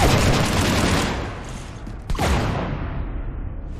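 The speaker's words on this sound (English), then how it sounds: "You want to stop shooting up my ship?" Heavy rapid gunfire in Mass Effect 3 rakes a starship, loud and dense at first, then fading into a metallic rumble with a sharp impact midway, no voices over it.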